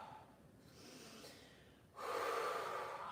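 Ujjayi breathing during a yoga pose, a close, soft, hissing breath drawn in, then a louder and longer breath that continues to the end, with no talking.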